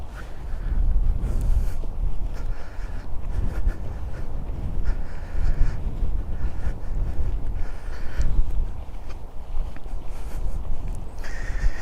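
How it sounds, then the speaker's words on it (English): Strong wind blows across the open grounds of Epsom Downs racecourse, buffeting the microphone with a continuous low roar and gusty surges throughout, no speech over it. "It is very windy out here."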